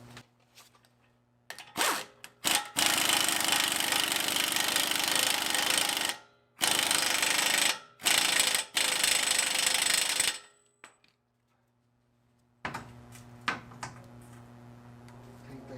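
A power tool with a 36 socket tightens bolts on a 2015 Dodge Ram 1500 EcoDiesel during an airbag replacement. Loud rattling bursts come in several runs of a few seconds each, separated by short silences, with a quieter stretch near the end.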